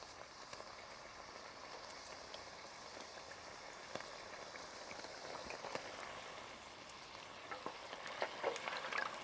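Homemade tortilla chips fry in hot oil, a soft steady crackle and sizzle with scattered small pops, faint and continuous with no talking.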